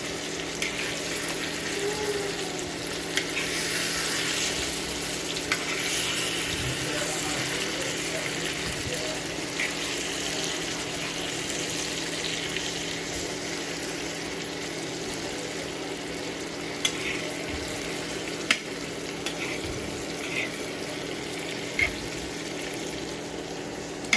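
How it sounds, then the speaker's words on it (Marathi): Black fish fry in a pan as they are turned to the second side, giving a steady, even sizzling hiss with a few faint clicks throughout. "आता आपले मासे एक साईडून फ्राय झाले आपण आता त्यांना पलटी करून घेऊ"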